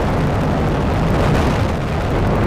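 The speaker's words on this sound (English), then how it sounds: "have ignition and liftoff of the United Launch Alliance Atlas V rocket carrying SF-8 for the United States Space Force" Loud, continuous broadband roar of a United Launch Alliance Atlas V rocket lifting off with United States Space Force satellites, a steady thundering rumble heavy in the low end with no pauses and no voices.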